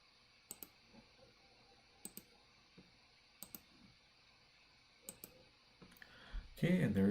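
Mouse clicks while drafting in CAD software: crisp, close double clicks repeat in a steady rhythm, followed by a louder rustle at the end, with someone talking quietly.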